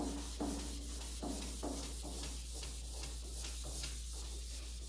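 Hand sanding of lacquer drips on an old Steinway piano case, a rhythmic rubbing scrape repeated in quick strokes, close and steady over a constant low hum.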